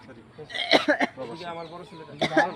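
An actor on a Bangladeshi drama shoot performs a staged cough and throat clearing, a few raspy, close bursts with voiced harrumphing between them.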